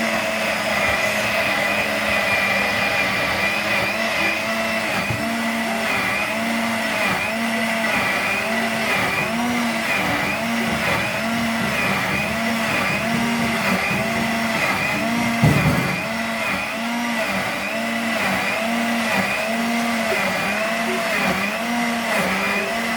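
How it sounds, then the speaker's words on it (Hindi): A kitchen blender grinds a mixture of dried plums and tamarind for a juice, running as a loud, steady whir that hums on without pause and dips only briefly near the end, with no talk. "अब आप इसको ब्लेंड करेंगे।"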